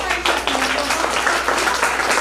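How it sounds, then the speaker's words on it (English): Audience applause welcoming a guest at a school technology expo, a short burst of scattered clapping from a crowd, moderately loud and fairly close. "please give a big round of applause as we welcome Mr. Sri"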